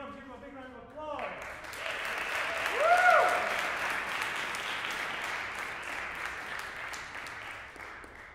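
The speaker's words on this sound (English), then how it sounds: "Give him a big round of applause." Audience applause breaks out to welcome a performer at a concert featuring a guest tuba artist, a steady wash of clapping that swells and stays loud after a brief stretch of speech at the start.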